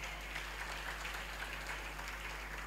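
A church congregation claps together during a sermon, making a steady wash of applause at moderate distance over a constant low electrical hum.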